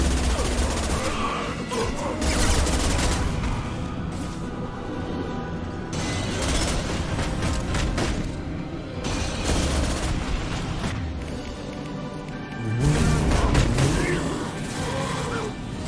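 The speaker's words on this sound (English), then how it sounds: "Sitting there shooting the wall" Mass Effect 2 combat fills the clip with dense, continuous gunfire, rattling bursts and crashing impacts layered together and swelling louder near the end.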